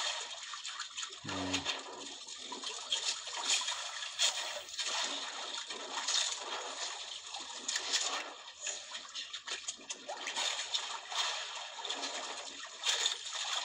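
A wooden outrigger boat rocks on moving water, its outriggers knocking and water sloshing and splashing continuously close by, with steady broadband wash throughout.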